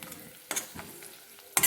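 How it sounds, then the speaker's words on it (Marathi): Chopped onion sautéing in a pan for a leftover-chapati snack, with a soft sizzle under sharp, intermittent scrapes and stirs of a spatula, two louder strokes standing out. "कांदा आता छान परतून झाला आहे"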